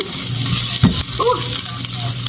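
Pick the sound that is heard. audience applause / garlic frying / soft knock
garlic frying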